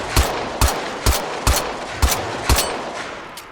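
Six sharp pistol shots from State of Decay 3 gameplay, fired at a steady, slightly uneven pace about half a second apart, each a loud close crack with a short tail over a low background bed.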